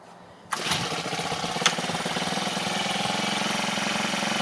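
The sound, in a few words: FG110 mini tiller engine starting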